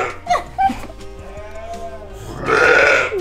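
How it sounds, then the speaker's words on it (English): Sheep on a small farm bleating nearby, a long wavering bleat in the middle and a louder raspy one at the end, with a few short vocal sounds from people early on. "You love the sheep?"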